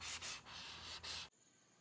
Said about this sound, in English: Go over this with a sanding tool like this, the sanding block.